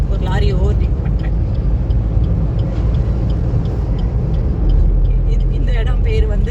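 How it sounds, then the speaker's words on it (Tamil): An automatic car overtakes a lorry on a highway between Madurai and Sivakasi, with a steady loud road and engine rumble throughout and a voice talking over it. "ஒரு லாரி ஓவர்டேக் பண்ணுறேன்."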